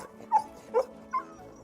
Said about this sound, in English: Her cute little dog hiding under her skirts.